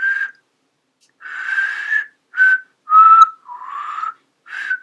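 A person whistles a short tune in bright, clear phrases, about six separate bursts with pauses between them, close and fairly loud with no talking.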